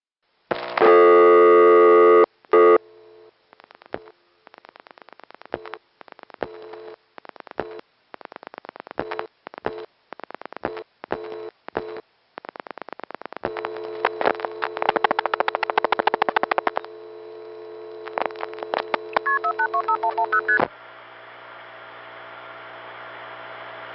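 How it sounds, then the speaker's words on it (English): A long-distance telephone call is routed through a 1977 NX1 exchange toward the Atlanta tandem. It produces a sequence of electronic call-progress tones: a loud opening tone, many short on-off pulses and clicks, then rapid multifrequency beeps and a final steady tone, with no talk. "we'll have a very direct connection to the Atlanta long-distance tandem, which will then put the call the rest of the way through"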